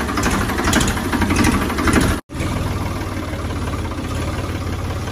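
A Ford 3600 tractor engine idles with a steady, moderately loud mechanical chug and rattle, cutting out for an instant before settling back into the same even running.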